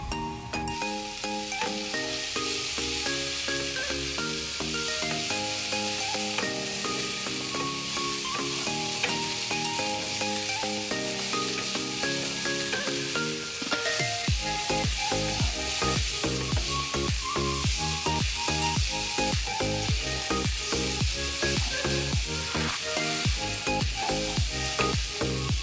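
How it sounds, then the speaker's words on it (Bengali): Yardlong beans and onion fry in a pan over a low flame, giving a continuous sizzle with occasional stirring scrapes, steady and close, alongside background music that runs throughout. "এবারে একটু লো ফ্লেমে রেখে ফ্রাই করব"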